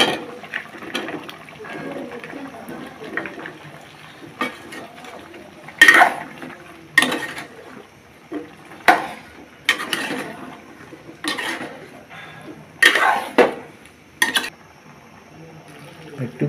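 Pieces of bottle gourd tipped into a pan with shrimp and stirred: repeated scrapes and clatters of a spoon against the pan, sizzling faintly between the sharper knocks, with a voice speaking intermittently.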